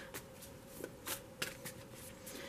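Tarot cards are shuffled by hand at close range in a series of quick riffling bursts with short pauses between them, over a quiet room hum.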